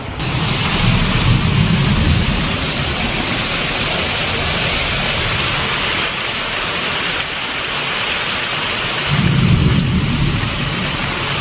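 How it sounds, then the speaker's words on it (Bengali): Heavy monsoon rain pours steadily onto a courtyard during a storm with lightning. A dense, loud hiss fills the whole stretch, and deep rumbles of thunder swell near the start and again toward the end. "বাবা কি বিদ্যুৎ চমকাচ্ছে ভালোই এবার জোরে বৃষ্টি পড়ছে"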